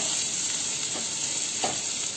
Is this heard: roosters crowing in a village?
no